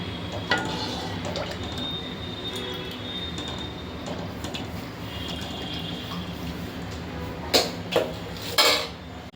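Gulab jamun mixture stirred in a bowl, with soft scraping and clinks of a utensil against the dish, ending in a few sharper knocks of metal near the close.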